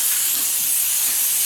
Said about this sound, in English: So you're just going to spray your pan.